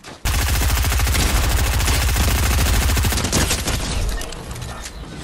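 Rapid SMG gunfire in Fortnite, a loud continuous burst of fast shots running for several seconds, with the rhythm breaking up into scattered shots and impacts toward the end.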